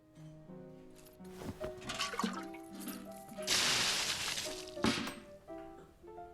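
A bucket of water sloshes and splashes in the Voodoo Detective PC game, a broad watery burst in the middle with a sharp hit near the end, over soft background music.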